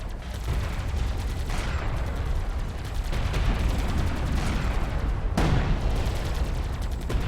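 Sustained gunfire hitting a turret in a sci-fi video game, with dense, continuous rattling shots and sharp cracks that stay loud throughout, with no talking.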